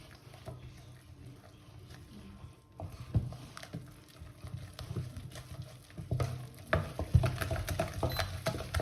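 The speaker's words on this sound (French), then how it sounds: "je vais rajouter ma farine. Je brasse." Flour being stirred into a cheese quenelle panade in a pan, a soft irregular scraping and patter of the spoon that grows busier and louder in the second half, with no voices.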